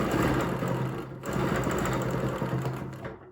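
Sewing machine stitching a quilt, a rapid, steady mechanical whir and chatter close up, briefly pausing near one second and slowing toward the end.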